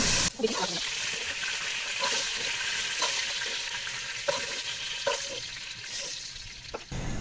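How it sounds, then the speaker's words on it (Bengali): Cubed potatoes frying in oil for beef biryani, a continuous close sizzle with occasional stirring clicks and scrapes throughout. "এখন আমি আলু দেখুন দর্শক আলু ভেজে যে ভেজে লাল হয়ে আসছে"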